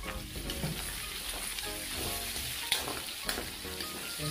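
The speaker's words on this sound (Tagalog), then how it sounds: "Pwede na po natin ilagay yung ating mga aromatics. Lagay po natin yung bawang. At sunod natin yung ating sibuyas." Garlic and onion sauté in a pan, a loud, continuous crackling sizzle with light stirring scrapes and occasional sharper pops, close and with no voices.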